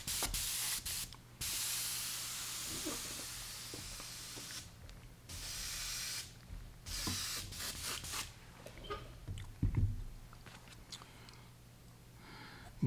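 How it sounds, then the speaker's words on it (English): An airbrush being rinsed out during painting of a brown trout pattern gives soft, close bursts of spray hiss. The bursts come in several short and long blasts with gaps between them, fairly quiet overall. "I'll rinse the airbrush out again."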